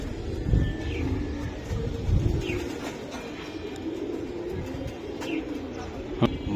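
Giribaj pigeons for sale coo several times in short, moderately near calls over a soft background.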